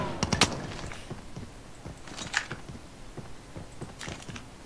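Gunfire in the mobile shooter Call of Duty Mobile, heard as a few sharp, separated bursts of shots spread across the moment over a low game background, with no talking.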